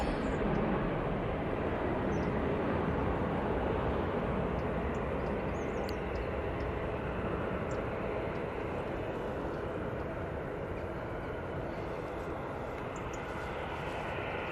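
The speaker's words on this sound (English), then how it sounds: "And off that Ryanair goes to Belfast." A Ryanair airliner departs Manchester Airport for Belfast, giving a steady, continuous engine roar that holds fairly level throughout without fading.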